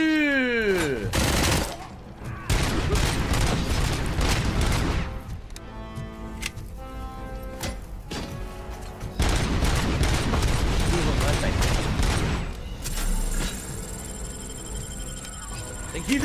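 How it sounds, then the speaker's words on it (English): Explosions from thrown grenades and bursts of gunfire in the RoboCop video game, loud and repeated, with heavy booms separated by stretches of rapid shooting and a steady tone near the end. "They keep throwing grenades."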